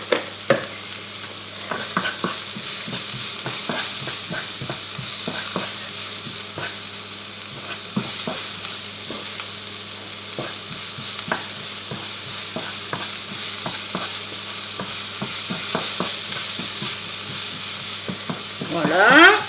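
Garlic and onions sizzle steadily in a pan for the Roquefort mussels, a continuous close frying hiss broken by soft clicks of stirring.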